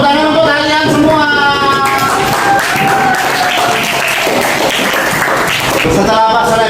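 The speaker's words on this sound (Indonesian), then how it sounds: "Tepuk tangan untuk kalian semua." Students in a classroom applaud one another, a stretch of mixed clapping in the middle with voices speaking and calling out around it at the start and end.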